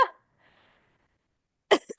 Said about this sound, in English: this cough is so bad.